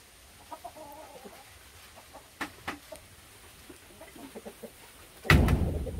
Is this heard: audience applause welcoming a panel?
no